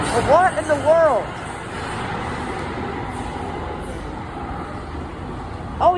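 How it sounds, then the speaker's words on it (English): Overhead wires of a light rail line at a station give off a steady broadband hiss and hum that carries on alone through the middle, with voices at the start and end. "I think that noise is the wires."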